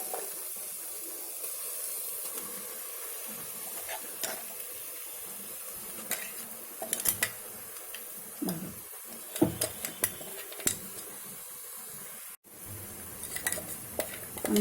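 A paste of onion, tomato and coconut fries in a pan with a soft sizzle, while a spoon stirs and clinks against the metal in scattered bursts.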